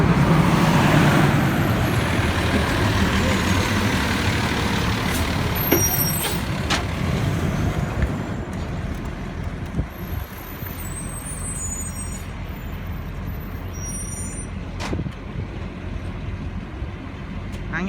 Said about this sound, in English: The truck's coming this way.